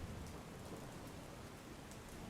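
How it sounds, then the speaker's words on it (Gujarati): Steady, dense rain pours down in Surat in a constant hiss, loud and unbroken throughout. "સુરતમાં ધોધમાર વરસાદ વરસી રહ્યો છે"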